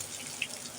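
Water poured into a cooking pan over chillies and garlic while making chhyachra, giving a brief, faint splash with a soft trickle.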